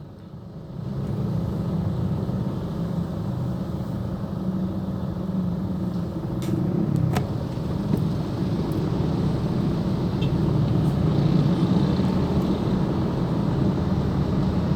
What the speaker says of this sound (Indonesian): di perempatan Slipi lalu lintas terpantau ramai